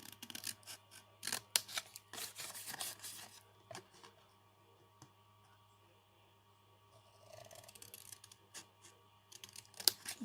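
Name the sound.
scissors cutting a cardboard box along the score line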